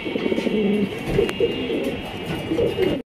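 A pair of Lahori pigeons coos in repeated low, throaty phrases, close and fairly loud, over a faint steady background hum.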